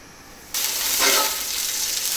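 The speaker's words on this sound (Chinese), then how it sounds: "我们再炒个竹笋哈， 用猪油炒哈" Bamboo shoots hit hot lard in a wok in a rural Chinese kitchen, a sudden loud sizzle that flares up and holds as a steady bright crackling hiss, close and alone.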